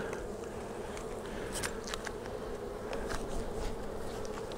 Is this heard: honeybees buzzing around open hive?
yes